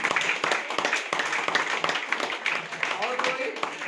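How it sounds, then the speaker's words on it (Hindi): Brisk, rhythmic group clapping at a meeting, with sharp evenly spaced claps and voices audible underneath. "अगले एक जोरदार ताली"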